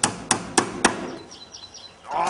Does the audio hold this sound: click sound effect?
no